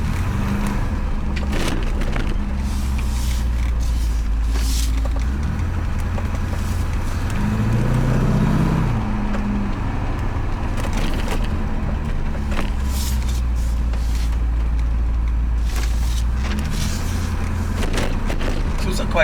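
Porsche 928 driven at night on a bumpy road, its engine a steady low rumble with road noise and occasional rattles, close and continuous, with someone talking over it.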